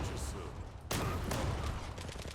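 Rapid gunfire in the online shooter game Zula, a near-continuous barrage of bursts that drops off briefly and then resumes louder and harsher.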